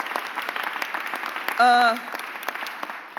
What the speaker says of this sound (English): Give PHA and Kelvin Jeremiah a huge, huge round of applause